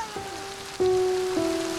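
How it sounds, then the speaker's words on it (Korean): Steady broadband rain pours down in a sudden shower in the Sundarbans, hissing evenly throughout with a few sharper tonal sounds cutting through. "갑자기 소나기가 내립니다."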